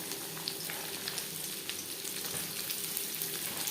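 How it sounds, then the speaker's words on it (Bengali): Chopped onions sizzle in hot refined oil in a wok, a steady crackling hiss throughout with small pops, fairly quiet and close, no talking. "দু তিন মিনিট পেঁয়াজ ভেজে নেওয়ার পর দিয়ে দেবো মশলাকে"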